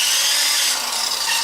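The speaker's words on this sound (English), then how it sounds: "Then we get our special little deburring tool." A small hand deburring tool scrapes the freshly cut end of a metal fuel or brake line on a 1962 Chevy pickup, giving a steady close-up rasping hiss with no talking.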